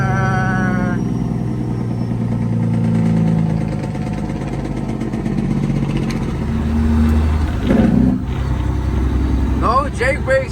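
A Peterbilt 379 truck's diesel engine rumbles loud and close through a downshift and pull, the low drone rising and settling, with a person talking over it.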